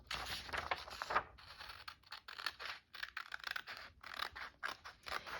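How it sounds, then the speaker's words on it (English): Scissors snipping through paper to cut out a rose-shaped piece, a run of quiet close-up crisp cuts and rustles in irregular bursts, with no talking. "I want to cut this rose one out."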